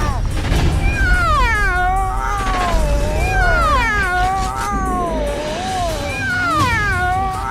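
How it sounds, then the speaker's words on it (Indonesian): A black cat meows repeatedly, a run of rising and falling drawn-out cries close by and fairly loud over a low rumbling background, with some yowling. "Ada kucing hitam."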